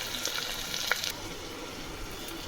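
Onions frying in hot oil in a home kitchen pan, a steady broadband sizzle throughout with a brief brighter hiss near the start, continuous and close with no voices.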